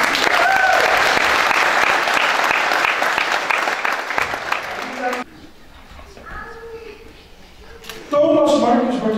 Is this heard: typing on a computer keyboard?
no